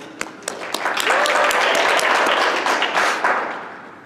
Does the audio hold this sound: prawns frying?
no